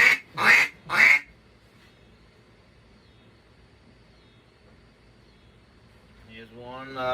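A cypress-barrel duck call with a black acrylic tone board gives three loud, nasal quacks in quick succession, then falls quiet before a voice begins talking at the end.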